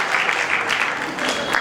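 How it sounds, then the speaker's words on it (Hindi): Audience applause at a college event, a steady dense wash of clapping that stays even from start to finish with no voices over it. "एक बार जोरदार तालियां बजाएं"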